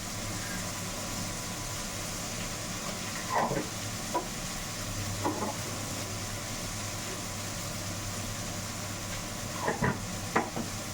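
Tomato pieces with cumin and coriander powder frying in a pan for a keema curry, a steady low sizzle with a few soft spoon scrapes and stirring taps.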